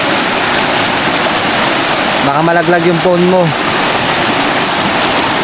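Strong river water rushes past in a loud, unbroken roar that fills the whole clip, while a person speaks briefly over it in the middle.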